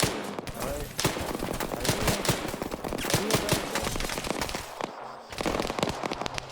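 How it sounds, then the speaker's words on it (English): Video game machine gun fire: dense, loud rapid bursts of automatic shooting that run almost continuously, broken by a brief pause near the end before firing resumes. "Machine gun headshots, what can you do?"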